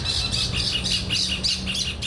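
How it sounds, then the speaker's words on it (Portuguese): Loud, continuous chorus of parakeets squawking and chattering in repeated harsh bursts from the trees at the Pampulha zoo, close and busy with no pauses. "Periquitos conversam gritando e não param de falar nem enquanto caminham pela árvore."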